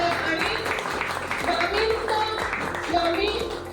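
Clapping from an audience at a business network members' gathering, rhythmic hand claps layered under talking voices that continue over the applause.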